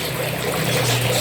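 Clean water running out of a filter pipe in a DIY aquaponics setup, a steady close-up trickle and splash with no voices.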